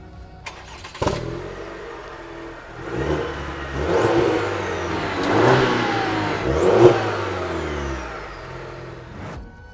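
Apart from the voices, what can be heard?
sports sedan engine revving, heard outside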